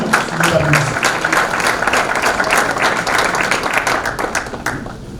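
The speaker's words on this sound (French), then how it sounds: "Madame San, vous applaudissez." An audience at a mock trial event in a hotel hall applauds a jury member, a loud, full burst of many hands clapping that holds steady, then eases slightly toward the end, with a voice briefly heard at the start.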